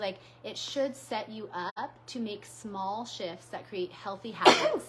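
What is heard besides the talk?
sneeze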